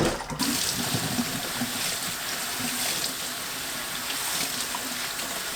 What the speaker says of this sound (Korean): 흐르는 물에 헹궈주세요.